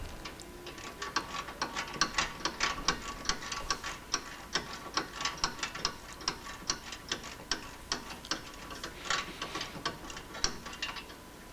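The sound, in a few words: removing a bolt from Corvette C3 front suspension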